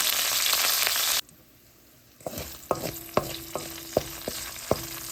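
Oil sizzles loudly, briefly drops away, then mustard seeds, fennel, chillies and curry leaves crackle in it with a run of sharp metallic clinks as a spoon taps and stirs the pan.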